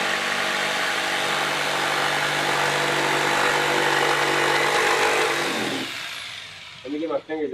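A jigsaw running near 4,500 RPM cuts a cornhole board with a loud, steady high-pitched buzz lasting several seconds, then winds down and stops, after which a voice speaks briefly.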